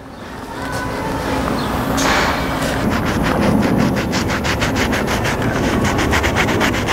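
Cloth rubbing finish into a reclaimed barn wood mantel, a steady close scraping and brushing texture with faint rhythmic strokes repeating through the second half, no voices.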